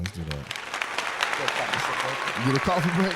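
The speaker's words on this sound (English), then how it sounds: "A little round of applause for rock" Scattered round of applause from a small group during a podcast, light clapping under people talking and laughing, with voices rising toward the end.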